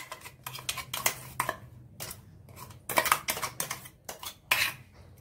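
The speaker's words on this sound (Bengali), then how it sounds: "এবার আমি এই পাত্রটার মধ্যে ঢেলে নিচ্ছি" Mustard paste for kasundi scraped from a small mixer jar into a bowl, a close series of sharp clinks and scrapes in uneven bursts, spoon against container, without talk.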